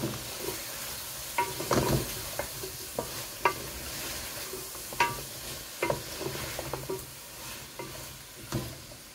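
Sweet pumpkin fries in a pan with chili and spices, giving a steady low sizzle broken by irregular scraping stirs and clinks of the utensil.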